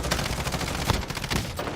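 Gunfire in the video game Call of Duty Warzone: rapid bursts of automatic weapon fire crack repeatedly in quick succession, loud and dense for the whole short stretch.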